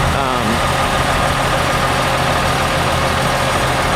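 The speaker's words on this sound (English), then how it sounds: "the wheels with the air compressor to get it on the sliders" An air compressor runs steadily at a mobile home park in Edison, NJ, pumping up the wheels of a home that is being moved. The motor drones loud and constant at close range.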